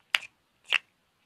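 Two crisp, snappy claps land about half a second apart during a children's song, each short and bright, close up against an otherwise silent background.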